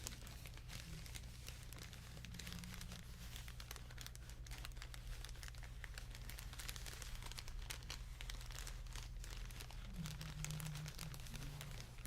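Close, quiet crinkling of material, a steady run of small crackles and rustles over a low constant hum, with no talk.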